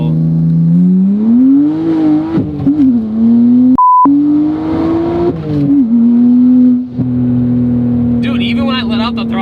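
A BMW 335i pulls hard from a rolling start, its loud, close engine note climbing steadily, breaking briefly at a shift, then surging again through a second hard pull.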